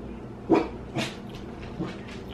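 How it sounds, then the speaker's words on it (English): A few short, sharp dog barks spaced apart, one louder bark followed by two softer ones, with a quiet background and no talking. "what y'all barking at?"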